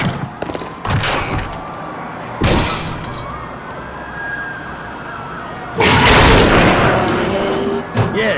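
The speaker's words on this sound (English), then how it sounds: "I don't know, a big explosion" Big explosion in the video game The Darkness II, heavy booming bursts near the start, middle and end, with loud rumbling blasts over a wailing, siren-like background.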